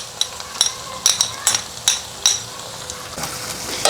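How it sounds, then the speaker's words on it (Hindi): Ginger garlic paste fries in a pan while a spoon stirs it, giving repeated sharp scraping clanks in a steady rhythm over a continuous sizzle. "अब हम अदरक लहसुन के पेस्ट को 2 मिनट तक फ्राई कर लेंगे।"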